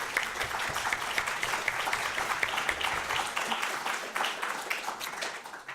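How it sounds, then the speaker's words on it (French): An audience at a public ethics debate applauds to close the first part, dense continuous clapping from many hands, moderately distant and even throughout. "cet applaudissement marque la fin de la première partie"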